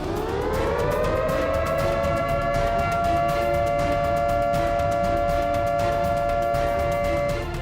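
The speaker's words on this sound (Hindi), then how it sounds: "वार्निंग सायरन बजाता है।" An Israeli air defense warning siren sounds a loud, steady, sustained civil-defense wail that rises at the start and then holds one pitch throughout, with no one talking.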